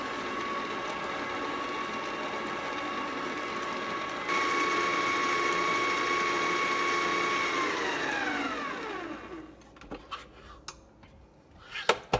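Electric hand mixer whirring steadily through banana coffee cake muffin batter in a bowl, its motor pitch rising slightly partway through before winding down and stopping, followed by a few faint clinks of utensils.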